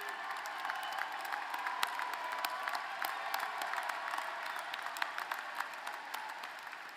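Steady applause from a commencement audience honoring graduates' spouses, partners, families and children, sustained and even throughout with dense overlapping claps from a large crowd.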